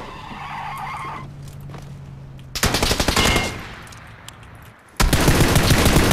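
Gunfire in PUBG Battlegrounds: loud bursts of rapid automatic shots with skidding vehicle noise, a sustained volley in the middle and another sharp burst near the end, with no talking.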